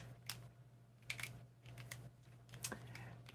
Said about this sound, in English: I gotta type slower.